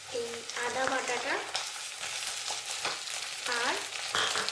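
Ginger paste goes into onions frying in hot oil for a Bengali fish roe curry, giving a loud, steady, close sizzle with bursts of stirring and spattering throughout, and no talking.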